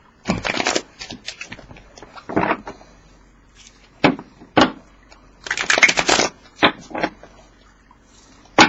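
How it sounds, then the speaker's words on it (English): Tarot cards are shuffled by hand in several loud bursts of riffling and brisk shuffles, with short quiet pauses between them and sharp taps as the deck is squared, close and alone. "Let's get these cards shuffled for you, okay? We're going to do 4 more shuffles."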